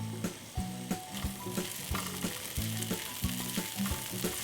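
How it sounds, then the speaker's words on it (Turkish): Green peppers sautéing in sizzling oil for menemen, a crackling fry with rhythmic bursts of spatter and stirring knocks, close and fairly quiet, no talking. "cızır diyen yağda soteliyorum"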